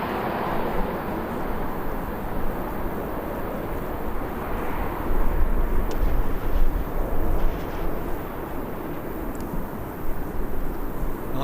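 Ryanair airliner from Madrid touching down at Birmingham Airport, a steady rumbling roar with brief louder surges, heard at a moderate distance with no talk.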